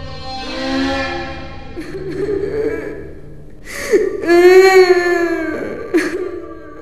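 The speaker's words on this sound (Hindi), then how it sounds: "उन्होंने फिर से उस औरत की रोने की आवाज सुनी" A woman's sobbing, whimpering cry for a horror story, rising in several drawn-out, wavering wails with gasping breaths between, close and fairly loud with no other sounds.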